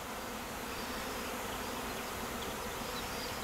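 A queenless swarm of honeybees arrives at a hive entrance in a steady, dense buzzing hum, close and continuous throughout, with no voices.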